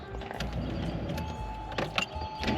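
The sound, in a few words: 2002 Porsche Boxster electric rear spoiler retracting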